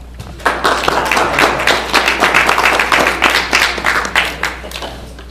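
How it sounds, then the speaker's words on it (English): An audience at a Hackensack election event claps steadily for several seconds, a dense patter of many hands at a lively, even pace. "Have a round of applause for them."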